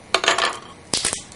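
A knife scrapes and cuts at the plastic seal on a small bottle of El Yucateco red hot sauce, two short bursts of close crinkly scraping with a pause between.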